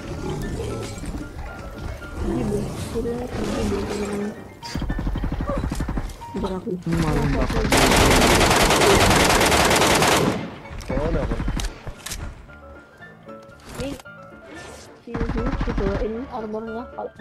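Bursts of gunfire and machine-gun fire against a giant King Kong boss in Metro Royale, with roars between volleys and a player talking over the fight.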